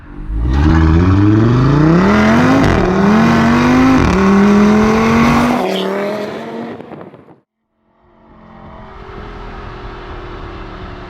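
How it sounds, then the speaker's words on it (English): A modified 2018 Audi TT RS turbocharged five-cylinder engine revs hard with rising pitch through several pulls, loud and close, then cuts off briefly before settling back to a steady drone. "this car sounds good in boost"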